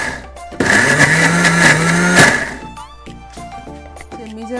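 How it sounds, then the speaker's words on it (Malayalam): A mixer grinder crushing prawns with salt whirs loudly in a short burst of under two seconds, then stops, followed by quieter clatter and residual noise. "പാകത്തിന് ഉപ്പും കൂടെ ചേർത്തിട്ട് ഒന്നും ഇതുപോലെ ചതച്ചെടുക്കണം"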